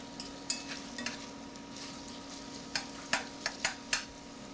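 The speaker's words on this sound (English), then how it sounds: "So a small dice, medium yellow onion. And we're just gonna let those sweat." Diced medium yellow onion sweats in a pan with a soft, steady sizzle up close, broken by scattered scraping clicks as a utensil stirs it.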